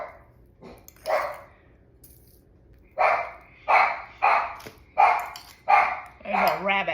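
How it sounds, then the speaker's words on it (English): Dogs bark in a rapid series of sharp, mid-pitched yaps, close by, with a couple of earlier single barks before the burst. "they're barking their heads off at that rabbit."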